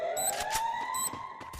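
A wailing siren rises steadily, fairly faint, with scattered sharp pops and bursts from the Free Fire game soundtrack mixed around it.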